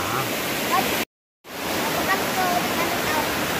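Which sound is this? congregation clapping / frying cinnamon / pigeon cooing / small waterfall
small waterfall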